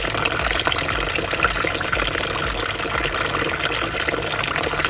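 Spring mineral water pours steadily from a pipe at a farm, a continuous close gushing splash filling the whole stretch with no pauses.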